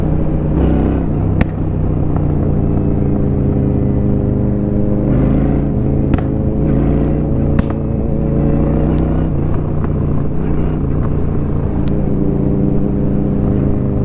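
Honda Shadow 750 motorcycle with 31,000 km on it, riding through city streets: a steady, loud low engine drone with exhaust rumble throughout, with faint sharp pops scattered across the ride.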